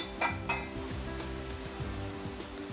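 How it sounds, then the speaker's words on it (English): Seared beef round roast in a pot as beef broth and red wine go in, a low steady sizzle with a couple of clinks of utensils on cookware near the start, close and quiet without talking. "Once it's completely seared, then I start adding the beef broth, the red wine,"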